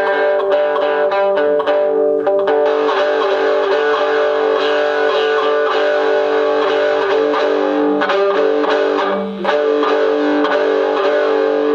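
Electric guitar played through a small portable modeling amplifier, distorted, effect-laden chords and notes ringing continuously with a brief dip near the end, loud and close with no talking.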